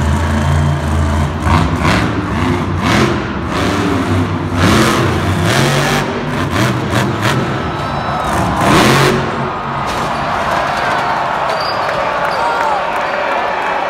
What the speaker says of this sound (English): It's mayhem with their RC cars.